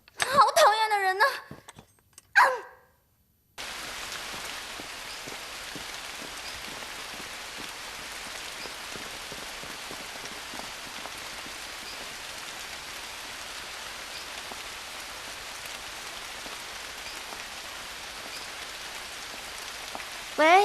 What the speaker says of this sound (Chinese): 我这边下大雨